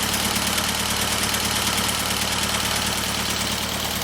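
A Ford Model A engine idles with a small exhaust leak, a steady close-up rumble carrying a fast, even ticking pulse throughout, loud and continuous with no talk over it.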